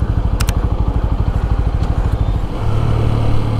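A TVS Apache motorcycle rides along with a loud, close, steady pulsing engine throb, its pitch holding to a steadier drone near the end.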